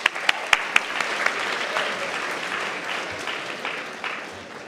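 An audience at a hackathon opening ceremony claps in a burst of applause, a few sharp individual claps standing out at first before the steady clapping gradually thins.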